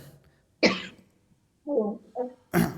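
Coughs from a woman with a cold during an online Arabic lesson: one sharp cough, then a pause, a couple of softer throaty coughs and a final strong cough, close and alone.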